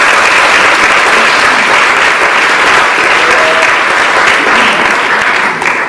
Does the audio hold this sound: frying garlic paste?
no